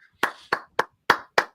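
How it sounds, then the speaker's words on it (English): Five slow, separate hand claps, crisp and close, spaced evenly with silence between, in a soft golf-clap style at a Kentucky Derby watch party. "Golf clap."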